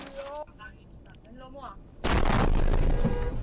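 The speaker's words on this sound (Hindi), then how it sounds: "अशदोद में मिसाइल गिरने के बाद जो जबरदस्त धमाका हुआ है वो आप देख रहे हैं" Blast of a missile explosion in Ashdod caught from inside a car: after brief voices, a sudden heavy boom erupts into a loud, sustained rumbling roar that fills the remaining seconds.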